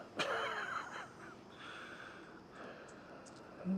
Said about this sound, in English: Sniffing for something.